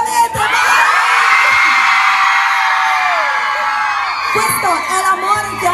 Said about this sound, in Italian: facciamo un urlo,